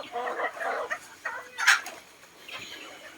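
Backyard chickens cluck in short bursts in a rural Philippine setting, close and moderately loud, with one sharper squawk midway and faint voices in the background.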